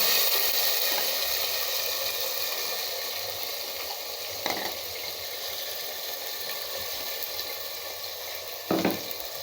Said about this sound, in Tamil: இந்த எண்ணெயில் அது தாங்க போடணும். நல்லா இப்படி வதக்கிக்கலாங்க.